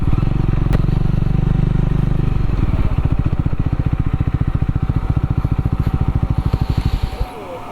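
A Triumph motorcycle rumbles close and loud at a busy hilltop viewpoint near Kathmandu. Its engine holds a steady roar, then drops into a lumpy, pulsing idle before cutting out near the end.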